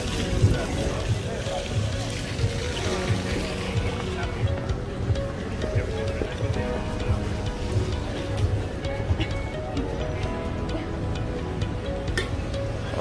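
A water fountain in London keeps up a steady splashing wash outdoors, with voices and general crowd bustle mixed in throughout.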